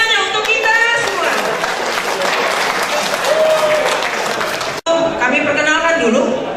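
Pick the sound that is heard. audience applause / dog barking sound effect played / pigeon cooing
audience applause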